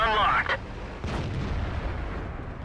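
A tank cannon shot booms in World of Tanks, one deep heavy blast with a rumbling tail, heard just after a short voice line.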